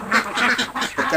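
Meat ducks on a small farm quack continuously in a loud, close chorus of overlapping nasal calls, with no voices over the flock.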